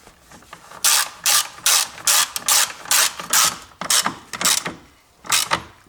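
A ratchet wrench tightens a bolt on the battery hold-down of a Toyota Prius, about a dozen loud, close bursts of rapid clicking with short pauses between strokes, no voices.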